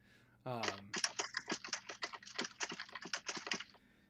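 Loud, fast typing on a computer keyboard: a dense, irregular run of sharp key clicks, close and clear, after a brief voiced sound at the start.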